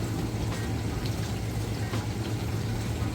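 A Kenmore stainless steel dishwasher runs a wash cycle, giving a steady, fairly loud watery rush and hum, continuous and close, with no talking.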